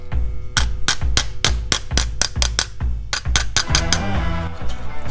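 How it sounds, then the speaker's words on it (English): Sharp metallic hammer blows on sheet metal held in a vise, repairing a Ford Landau Hardtop Coupe wheel arch, land in a steady rhythm, about a dozen strikes ringing close by, then a quicker flurry of clanging taps at the end. "Just going to hammer it along that line between a couple of gaps"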